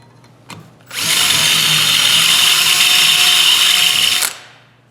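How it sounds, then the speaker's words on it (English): A power drill whines steadily for about three seconds as it bores a hole sized for a rivet, starting abruptly after a small click and cutting off cleanly, loud and close without speech. "I'm going to switch to this guy and drill it the size I need for this particular rivet"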